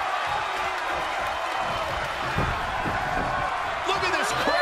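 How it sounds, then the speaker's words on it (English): Arena crowd in the WWE 2K22 wrestling game during a bikini iron woman match, a steady roaring wash of cheering under a commentator's voice, with a few thuds rising out of it. "Look at this crowd. It's insanity in here."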